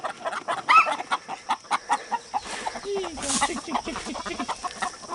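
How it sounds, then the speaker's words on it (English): Chickens clucking in short bursts nearby, with scattered bird calls and some rustling; a busy, agitated flock. "He has got the chickens worked up this morning."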